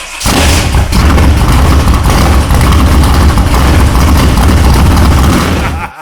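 An El Camino engine runs loud and close through a pair of Borla ATAK exhaust mufflers, a deep steady rumble with a rough idle texture that holds for about six seconds before cutting off.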